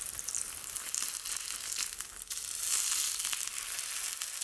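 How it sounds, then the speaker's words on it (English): Salmon fries in a pan with a bright, crackling sizzle, close and continuous, swelling slightly louder toward the end with no one talking. "Salmon's cooking quite nicely"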